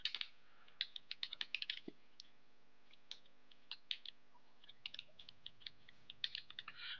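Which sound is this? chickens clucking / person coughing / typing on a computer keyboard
typing on a computer keyboard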